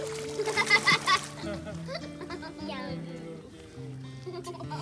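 Child splashing while swimming toward an adult in a pool or lake, with bursts of splashing and water sounds mixed under ongoing talk and background voices.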